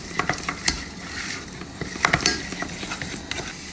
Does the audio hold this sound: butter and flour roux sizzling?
yes